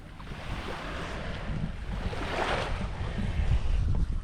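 Ocean waves wash onto a beach where shells and sea glass are being collected, with a steady broadband surf roar and wind buffeting the microphone, swelling slightly midway and staying close and continuous throughout.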